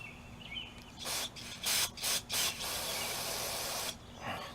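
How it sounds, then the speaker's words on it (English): Short bursts of carburetor cleaner spray hiss onto Tecumseh carburetor parts from a Toro engine, several quick sprays followed by one long sustained blast, close and loud in a quiet workspace. "Spray those off there with that."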